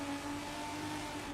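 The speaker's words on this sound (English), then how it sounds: "We got the GTR. Now we're gonna take it downhill and back up." A Nissan R32 GTR in a racing video game holds a steady engine drone with a sustained tonal hum, running at constant revs for a brief moment, moderately loud with no voices.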